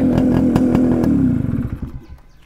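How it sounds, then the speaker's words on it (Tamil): A motorbike engine fires up nearby, running with a loud, rapid, rough putter for about a second before the rhythm slows and the sound fades away. "வண்டி என்னாச்சுன்னு பார்த்தீங்கன்னா ஸ்டார்ட் ஆகிட்டுங்க, நல்லா வேறு லெவலு ஸ்டார்ட் ஆகிட்டு"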